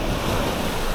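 Ocean surf at a secluded beach on Nusa Penida, Bali, a steady, loud wash of breaking waves with wind noise hissing over the microphone, continuous and unbroken through the moment, with no voices.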